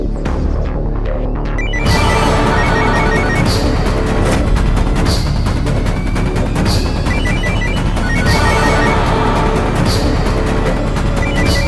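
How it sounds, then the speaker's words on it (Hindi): A phone rings in repeating bursts of bright electronic tones over a loud, dense background of dramatic throbbing music, with no talking. "बेल तो जा रही है।"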